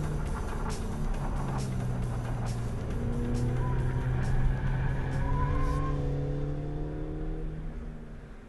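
A Ford performance race car shown in a played clip, its engine droning and shifting with revving surges and tire noise, heard at moderate level, fairly distant.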